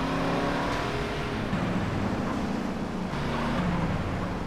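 A black car's engine drones in GTA San Andreas, a steady, loud motor hum with faint road noise, running continuously with no talking.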